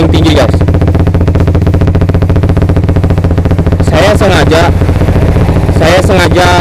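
Suzuki Satria F150 engine through a Tridente V2 exhaust in its loudest racing mode, idling high with a loud, continuous throbbing rumble and a couple of sharp revs.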